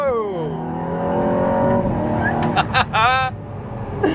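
Aston Martin Valhalla hybrid supercar with electric motors and twin turbos accelerating hard, engine note climbing in pitch through rising sweeps, loud and close, with brief gear-change breaks and excited voices over it.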